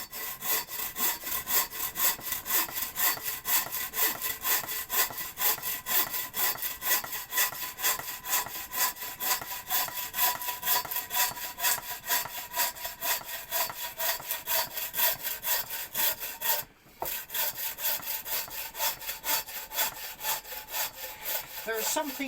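A handsaw cuts through firewood logs outdoors with a steady back-and-forth rasping rhythm, loud and close, running continuously with one brief pause near the end.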